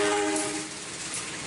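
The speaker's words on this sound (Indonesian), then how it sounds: "stasiun Lempuyangan Kota Yogyakarta dipadati ribuan penumpang" A busy railway platform at Lempuyangan station in Yogyakarta, crowded with thousands of passengers, where a train horn sounds near and loud over steady rail and crowd noise that gradually eases.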